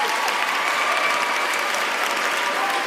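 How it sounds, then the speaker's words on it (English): Steady, dense applause from an audience, continuous clapping at an even level without a break. "A big round of applause for Zimkhita."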